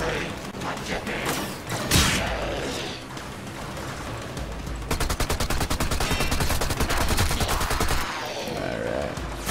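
Sustained gunfire in the video game Warframe, with a dense run of rapid repeated shots in the middle and end over continuous game noise and occasional heavy thumps.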